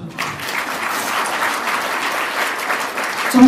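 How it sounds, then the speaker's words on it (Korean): Party members at a Democratic Party regional committee gathering clap together in a sustained, even burst of applause that continues steadily throughout. "박수 한번 쳐주십시오"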